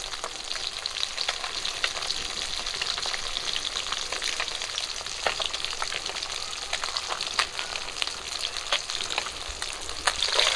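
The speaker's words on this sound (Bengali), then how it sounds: "মাছগুলো এক পিট করে ভাজা হয়ে গেছে" Pieces of bata fish frying in hot oil, a steady dense sizzle with fine crackling pops, close and continuous with no voices.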